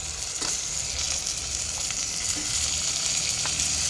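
Half a kilo of mutton hits a hot pan with turmeric, giving a steady, close frying sizzle with soft crackles and occasional light stirring taps. No voices are heard.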